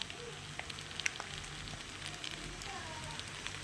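Veg noodles with red chili sauce and tomato sauce sizzle softly in a hot pan, a continuous low frying hiss broken by scattered light clicks and scrapes of stirring.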